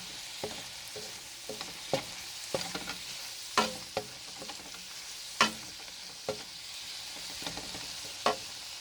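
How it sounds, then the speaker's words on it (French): Cooked tomato mixture stirred in a pan, a continuous soft sizzle broken by frequent spoon scrapes and taps against the pan, with no voices. "On va bien mélanger le tout."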